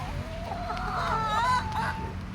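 Chickens clucking and fussing while being fed, close and loud, a busy run of overlapping clucks and calls with no talking.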